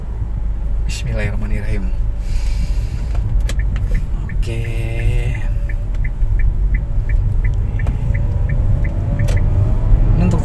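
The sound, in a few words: 2012 Kia Rio hatchback, six-speed manual, pulling away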